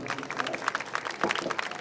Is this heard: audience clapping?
yes